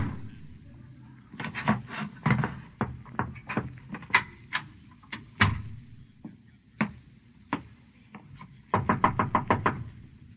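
Sound-effect knocking on a wooden door in an old radio drama, delivered as several bursts of sharp, close raps with irregular groupings and short pauses between them, ending in a quick flurry, with no voices.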